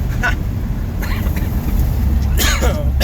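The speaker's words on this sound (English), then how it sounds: "Excuse my coughing." A few rough coughs from a nearby person, with the low rumble of a running vehicle underneath.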